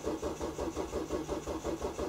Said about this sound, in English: I do crank over now the engine.